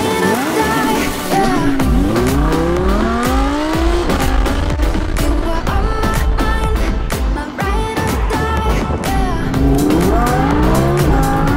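An Audi R8 V10 Plus sports car with 610 hp is driven fast, its engine roaring loudly and continuously with rising and falling revs through gear changes, plus occasional tire squeal.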